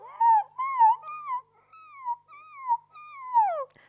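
A singer's voice imitates a whining puppy in whistle register, producing about six short, high, squeaky gliding whimpers in quick succession, each rising and falling in pitch, alone and close.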